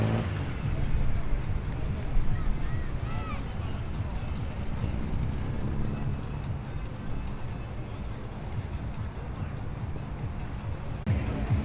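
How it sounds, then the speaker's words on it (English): A tuned Holden XT GT muscle car idles at a large car meet, a deep, rough, continuous engine rumble close by with people talking in the background. "The wild XT GT. Listen to the idle of that."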